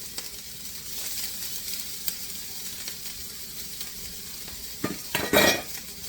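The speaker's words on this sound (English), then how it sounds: "Now we're only going to cook this for about 2 minutes, the onions and the garlic." Onions and garlic soften in a pan for a Greek-style zucchini and egg casserole, with a steady close sizzle and occasional utensil scrapes and clinks near the end.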